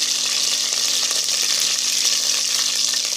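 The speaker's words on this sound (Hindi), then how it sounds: "थोड़ा सा हम इसको भून लेते हैं" Whole black peppercorns roasting briefly in a hot pan, a loud, close, steady hiss and sizzle that holds evenly throughout with no talk.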